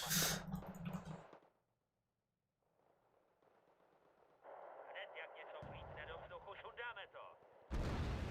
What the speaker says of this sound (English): Nice mortar.